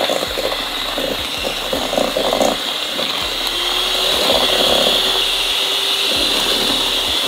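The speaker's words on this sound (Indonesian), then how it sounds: "Ini gue mixernya di kecepatan yang paling kenceng kalau di hand mixer ini." A hand mixer runs at its highest speed, beating fudgy chocolate brownie batter in a bowl with a steady, loud whirring drone that shifts slightly as the beaters move through the thick mix.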